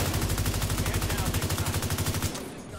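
Sustained rapid automatic gunfire from The Division 2, several weapons firing at once in a steady pulsing rattle that fades out at the end, loud and close.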